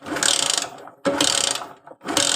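An engine is cranked by its starter during an ignition coil check on a vehicle with no spark at the plug: three loud whirring bursts, each about half a second long, separated by brief pauses.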